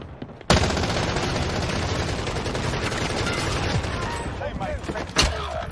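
Sustained automatic gunfire in a Warzone battle royale match, dense rapid bursts starting abruptly and continuing loud and close, with a sharp louder shot near the end.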